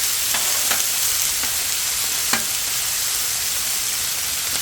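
Dog food fries and sizzles on a Blackstone griddle, a steady bright hiss with a few sharp pops and splatters scattered through it, close and fairly loud with no talk.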